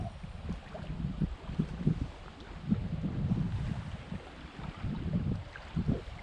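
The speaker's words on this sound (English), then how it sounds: "Very windy today." Gusty wind blowing across a lake on a canoe trip in Quetico, Canada, heard as low, rumbling buffeting against the microphone that rises and falls steadily, faint overall and without talk.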